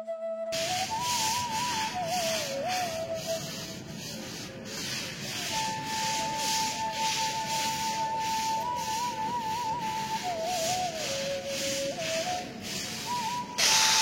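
Mustard seeds spread out on a rooftop being stirred and pushed around, a steady dry rubbing rustle that continues without a break, with a faint wavering whistle-like tone running underneath.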